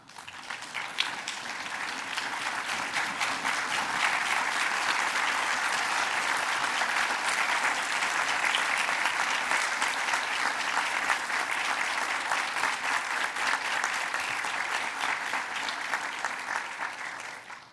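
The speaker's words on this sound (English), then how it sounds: "I invite you to stand and express your appreciation to your loved ones with a round of applause." A standing graduating class at a commencement ceremony applauds their loved ones: a long, steady swell of many hands clapping at a moderate distance, sustained for nearly eighteen seconds before fading.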